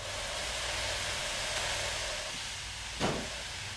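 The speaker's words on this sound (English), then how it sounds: "I don't know if it's supposed to be blowing steam out the side like that." Steam locomotive in the Derail Valley train game venting a steady broadband hiss of steam, with low engine rumble beneath and a brief sharper burst near the end.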